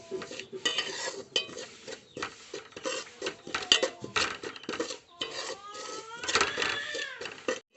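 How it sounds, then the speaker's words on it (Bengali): Semolina roasts in a pan under quick, continuous stirring, the spoon scraping and clinking against the metal in a busy, irregular rhythm, close and fairly loud. "সুজি হালকা করে সুজিটা ভেজে নেব।"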